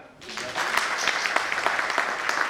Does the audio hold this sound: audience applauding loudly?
yes